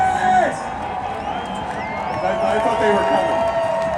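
A large, raucous crowd at the Indianapolis 500 cheers and whoops from the turn 3 stands with a broad roar. Someone speaks briefly over it near the start.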